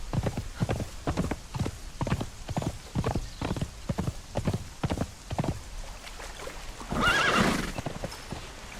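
Horse galloping in the video game Conan Exiles, rapid rhythmic hoofbeats close and clear, followed by a loud neigh near the end.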